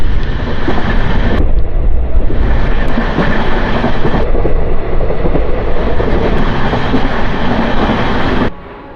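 An LHB passenger train on the Guntur to Vikarabad run, heard from inside a coach as a loud, continuous rumble and roar of wheels on rails with brief shifts in tone, cutting off near the end.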